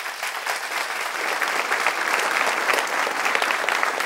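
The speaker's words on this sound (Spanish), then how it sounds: "¿Por qué un fuerte aplauso a su pastor?" A church congregation applauds their pastor with sustained, dense clapping that swells slightly and holds steady for a few seconds, moderately loud with no talking over it.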